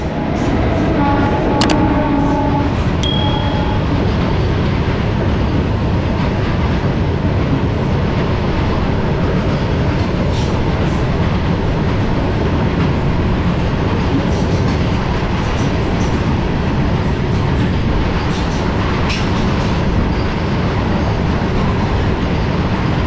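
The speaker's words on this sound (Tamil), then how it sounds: "இந்த கூட்ஸ் ட்ரெயினுக்காக தான் நம்ம இவ்வளோ நேரம் வெயிட் பண்ணிட்டு இருந்தோம்." A goods train rumbles past during a DEMU train journey from Tiruchirapalli to Karaikal. A loud, continuous roar of wheels and wagons fills the whole stretch, with a brief squeal near the start and no talking.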